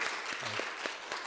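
Church congregation at a Christmas service claps briefly, a short burst of scattered applause from a small group in a room.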